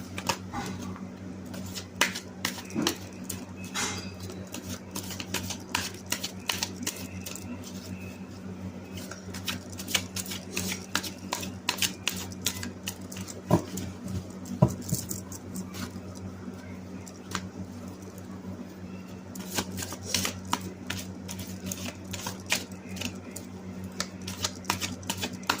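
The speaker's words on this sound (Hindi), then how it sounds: "मैं सबसे पहले कार्ड्स को शफल कर लेती हूँ।" A deck of tarot cards being shuffled by hand, a quiet stream of rapid riffling flicks and papery snaps in irregular bursts over a low steady background hum.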